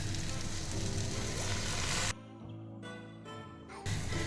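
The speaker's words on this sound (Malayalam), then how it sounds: "ഇതിലോട്ട് ഞാൻ 1 ഗ്ലാസ് വെള്ളം ഒഴിച്ച് കൊടുക്കുകയാണ്" Loud, steady sizzling as a glass of water is poured into a hot pan of fried chicken, abruptly dropping quieter midway, then surging back to a full hiss near the end.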